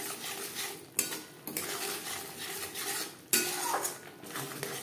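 Spices (coriander, cumin, black pepper, bay leaf, dry red chilli and a little garam masala) being stir-fried in a pan over low-medium flame for doi ilish, with steady scraping and clinking of a spatula against metal and a soft sizzle underneath.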